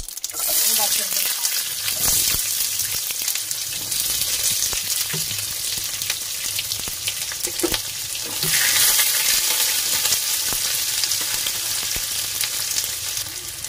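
Onion dropped into a hot pan with curry leaves, frying for cheese masala dosa; a steady, close sizzle runs throughout with occasional stirring clatter, and no talking.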